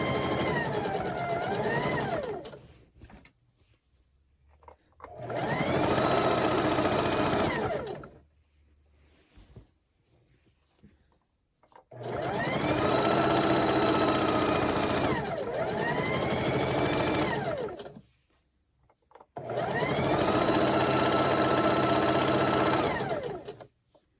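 A sewing machine stitching a fabric Christmas table runner runs in four loud sustained bursts of steady motor whirring and needle chatter, separated by short quiet pauses.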